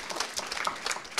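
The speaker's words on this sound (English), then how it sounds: "let's give a round of applause for that" A seated audience at a tribute talk about a former Canadian senator gives a brief, fairly faint round of clapping, a short even patter of many hands with no speech.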